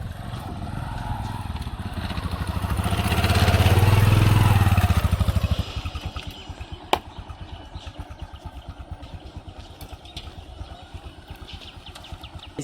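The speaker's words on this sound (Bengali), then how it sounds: "দেখুন মানুষ এই বাইকে করে আর পিছনে মাল নিয়ে তাই আসছে।" A motorcycle carrying goods on the back rides along a riverside char village path toward a small ferry boat, its engine swelling loud and close before easing into a steady rattling idle with faint ambient noise.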